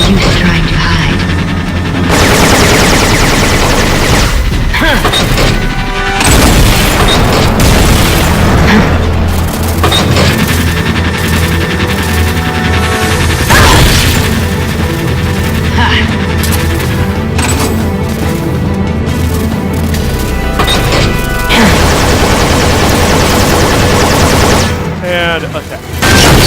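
Crates blown apart by repeated explosions during a boss fight against the Metal Gear RAXA prototype in a Metal Gear video game: loud, dense booms and blasts in quick succession over a continuous wall of battle noise.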